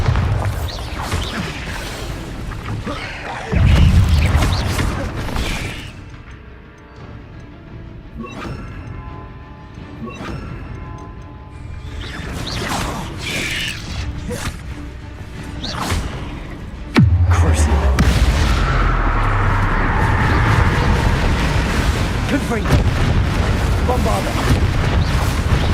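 Bombarda blasting spells explode in Hogwarts Legacy on PS5, with heavy booming crashes hitting twice and rumbling on amid game action and a voice.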